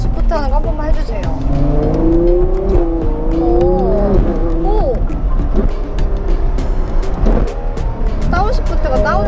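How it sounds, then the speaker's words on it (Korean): A Ferrari 812 Superfast's V12 engine revs through downshifts, its exhaust rising and falling in pitch in close, loud sweeps beneath steady conversation from people inside the car. "배기 소리가 엄청 좋은 것 같아요"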